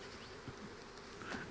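A swarm of wild honey bees buzzing faintly in the bush, a soft continuous drone with a few nearer passes.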